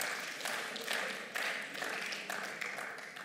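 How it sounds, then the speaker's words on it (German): Applause in the chamber of the Berlin state parliament, a faint, steady wash of many hands clapping that swells a little in waves, distant and low in level throughout. "Können Sie auch jetzt noch mal alle klatschen."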